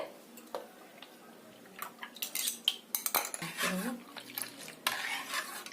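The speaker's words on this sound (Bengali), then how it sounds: "ভালো করে নাড়তে হবে যাতে বাটিতে রাখা ফাটিয়ে রাখা টক দই যাতে ভালো করে মিশে যায় দুধের সাথে" A spoon clinks and scrapes against a steel bowl while sour curd is stirred into milk, irregular metallic taps and swishes growing busier, close up with brief faint voice traces.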